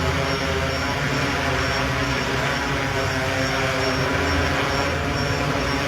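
An Apellix working drone hovers and comes in to land at a trade conference in Arizona, its propellers giving a steady, loud, close whirring buzz that holds without a break and with no talk over it.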